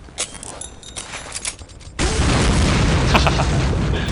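A grenade blast in the video game Counter-Strike: Condition Zero erupts as a sudden loud boom, then a dense roaring rumble that holds steady for about two seconds, following a stretch of quieter game sounds with scattered pops.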